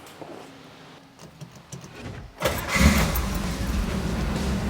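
A 1967 Chevrolet Camaro RS engine cranks after some faint rustling, catches with a loud burst and settles into a rough, steady idle close by.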